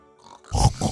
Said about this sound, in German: Hallo, Schweinchen.